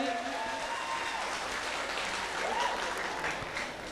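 Applause at a village inauguration ceremony in Indonesia, a steady crowd of hands clapping throughout at moderate distance, with no talk over it.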